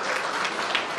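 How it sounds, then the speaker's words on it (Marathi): An audience at a Banjara employees' family gathering and award ceremony gives a burst of loud, continuous applause. The clapping is dense and crowd-wide, steady throughout and close. "एकदा जोरदार टाळ्या वाजवल्या"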